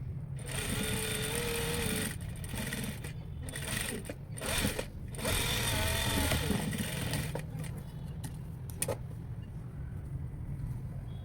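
A sewing machine runs while stitching a princess-cut blouse, its motor whirring in long continuous bursts with brief pauses and a few clicks between runs, close and fairly loud.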